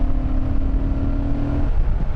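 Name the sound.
2006 Honda Fireblade motorcycle accelerating at full throttle in 5th gear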